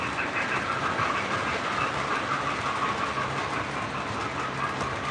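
A model steam locomotive runs at a steady cruising speed, its soft chuffing blending into a continuous rolling rattle of wheels on track, moderately quiet and unbroken.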